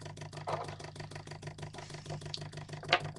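A small homemade Bedini-style magnet motor built from magnets, an old CD and a coil of wire spins steadily, making a soft, rapid, even pulsing whir that stays quiet and close, with a couple of faint clicks and no talk.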